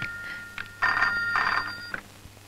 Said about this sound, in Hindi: टेलीफोन की घंटी बज रही है